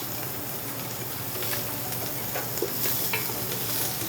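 Onions and garlic sizzle quietly in a pan with a soft, steady frying hiss. A utensil stirs them with occasional scraping and clinking throughout.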